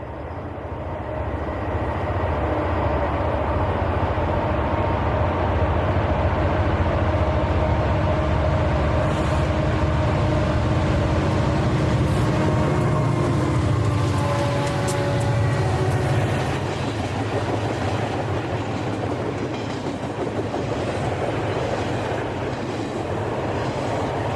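A Rutherford-bound freight train rolls through Mineral Point on the Pittsburgh Line, a loud, continuous rumble of wagons and wheels close by for the whole stretch, with clanking and squealing rising midway.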